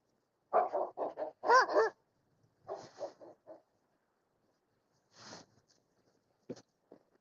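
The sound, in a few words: dogs barking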